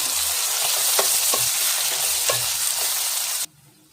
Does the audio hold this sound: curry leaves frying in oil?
yes